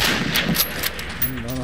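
German 88 mm flak gun used as artillery in Medal of Honor Allied Assault Spearhead, heavy gunfire cracking out in quick bursts over battlefield noise, with a low droning tone rising near the end.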